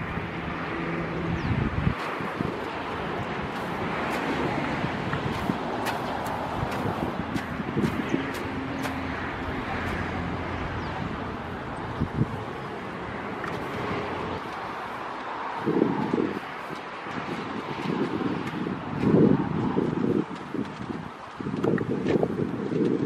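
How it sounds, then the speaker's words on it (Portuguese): Offshore wind blowing at the coast while a kite flies, a steady blustery rush buffeting the microphone in gusts, with low rumbling surges that grow stronger toward the end. "Hoje o vento tá terral, igual do vídeo anterior aí da xepa, o vento pro mar."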